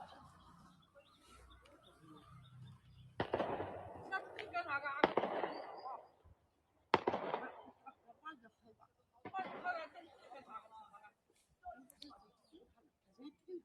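Firecrackers go off at a village celebration in Shitan Village, coming as sharp, irregular cracking bursts and crackling volleys at a moderate distance, with gaps between them and faint chatter in the background.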